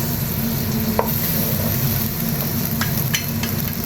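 Steady loud sizzling of blanched squid stir-frying in a hot pan, with a few light clinks of a utensil against the pan.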